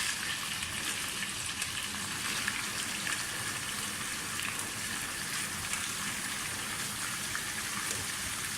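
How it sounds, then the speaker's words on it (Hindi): Chicken pieces frying in hot oil for a restaurant-style chicken karahi, a steady dense sizzle and crackle that holds evenly throughout with no talking. "मैं थोड़ा सा फ्राई करूँगी पहले चिकन को"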